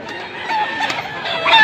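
A rooster crows once, fairly close and loud, a short strained call with some clucking around it, in Mantalungon, Cebu.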